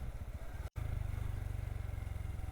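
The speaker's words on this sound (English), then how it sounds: "So hopefully we got some engine noise." A Honda Super Cub motorcycle engine runs steadily on a country ride, a close, continuous low puttering drone with wind noise, briefly cut by a short dropout, with no talking.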